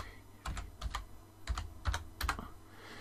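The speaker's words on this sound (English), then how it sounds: "let's say if we type in the word Navajo" Typing on a computer keyboard: a few short clusters of quick, close key clicks separated by brief pauses, quiet and with no talking.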